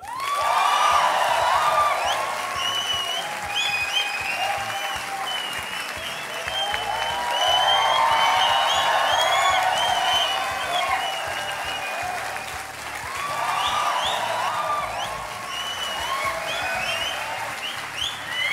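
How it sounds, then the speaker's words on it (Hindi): A large studio audience at a TV talk show claps steadily in three swelling waves, with scattered whoops and cheers rising through the applause and no talking. "और ये तालियां बजते रहें"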